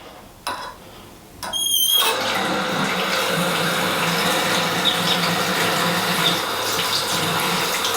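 Warm water runs steadily from a tap after a couple of brief knocks, a continuous close splashing stream that fills the rest of the clip with no talk over it.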